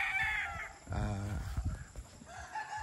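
Chickens from Easy Game Farm crow and cluck nearby, a rooster's drawn-out crow standing out in the middle between shorter clucks and calls.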